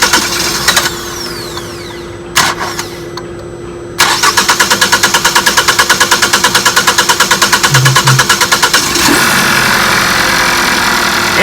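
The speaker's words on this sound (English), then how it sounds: "it seems like the vehicle will start even with both cam sensors unplugged" A car with both cam sensors unplugged cranks with a few short starter bursts, then catches and runs with a rapid, pulsing chug that settles into a steady, loud idle, with no talking.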